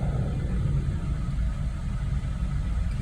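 A Jeep Wrangler engine idles at operating temperature with the heater fan running full hot, giving a steady, close, low rumble that holds even throughout with no voices.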